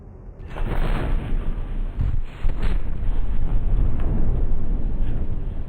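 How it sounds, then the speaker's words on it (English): A radar-guided missile fires from a Mirage IIIE jet in a combat flight video game, a steady roaring rush that holds loud and unbroken for several seconds with no talk. "Thank you, radar missile. You have served me well this game."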